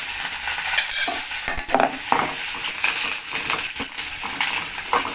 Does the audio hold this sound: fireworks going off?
no